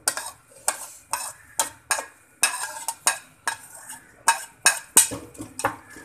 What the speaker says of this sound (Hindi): बस अब हम टमाटर डाल देंगे।